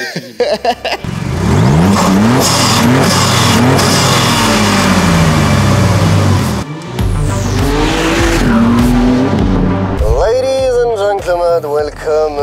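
A Maserati MC20 with a V8 engine revs hard and accelerates, its pitch climbing through gears in loud sweeping surges with a short break, and people talk over the close, aggressive engine roar.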